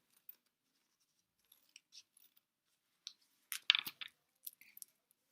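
Scissors snip through folded tape strip in a quiet room, a few sparse, crisp close cuts with short pauses between them, no talking.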